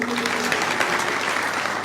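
Audience applause at a political rally speech in Kagal, a steady dense wash of clapping from a large crowd, continuous and fairly loud with a faint voice briefly audible at the start.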